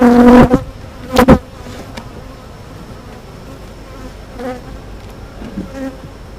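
A honeybee colony buzzes steadily in the hive boxes during an inspection with light smoke, with a few loud close hums at the start over a softer continuous drone.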